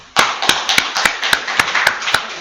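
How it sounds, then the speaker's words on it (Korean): A church congregation claps during a Korean sermon, about ten sharp, fairly close, roughly evenly spaced claps forming a brisk rhythm over two seconds with no talk. "박수 한번 쳐줍시다."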